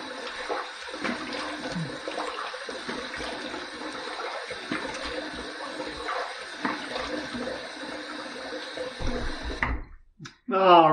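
Running water from a bathroom tap as a face is rinsed during a wet shave with vintage shave soap, a steady close splashing rush under some background noise, breaking off near the end.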